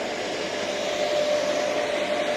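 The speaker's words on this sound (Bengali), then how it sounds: "ডাস্ট কালেক্টরটা চালু হয়েছে" The dust collector on a WTS HSBS 2215 hand stroke belt sander runs as a steady, loud, even whoosh of rushing air with a faint tonal hum, with no breaks.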